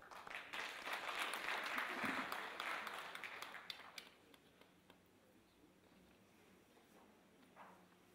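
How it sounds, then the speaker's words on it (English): Audience applause for a county governor at a donor panel discussion, a dense burst of clapping for about four seconds that thins to scattered claps, then quiet room noise. "Clap for him."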